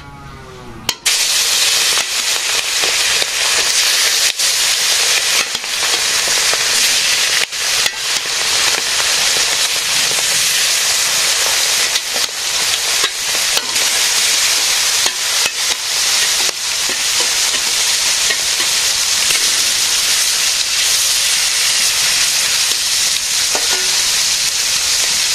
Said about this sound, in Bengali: মাছ ভাজি হয়েছে